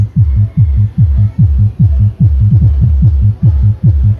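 A 2000 W subwoofer fed from a mixer auxiliary send pumps a steady, fast train of deep bass thumps, about three per second, loud and close with no talk.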